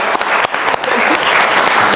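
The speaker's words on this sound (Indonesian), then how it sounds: "tepuk tangan buat para panelis kita, teman-teman mahasiswa" Student audience at a televised political debate applauding the panelists, brief loud clapping with a few sharp claps at the start settling into a dense, even round.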